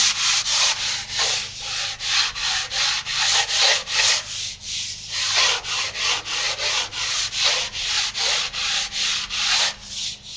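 Sanding the wood sheeting on a foam wing by hand, a loud, close, rhythmic back-and-forth rasp of steady strokes, about two or three per second with one short pause, heard alone.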